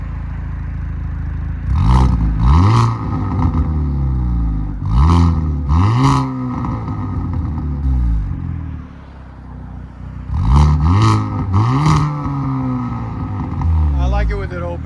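A 2022-2023 Hyundai Kona N fitted with an aFe cat-back exhaust is revved in repeated bursts, pairs and triplets of rising blips with crackle between them over a steady idle, loud and close.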